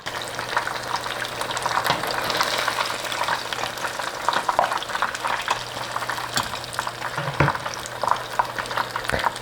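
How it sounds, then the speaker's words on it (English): Beer-battered fish pieces fry in a pan or griddle with a dense, continuous crackling sizzle and some bubbling, with the occasional clink of a utensil. "I'm going to let these fry for about 4 to 5 minutes each piece."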